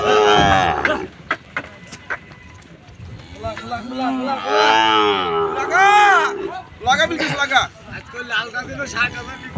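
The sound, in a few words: cattle being unloaded at cattle market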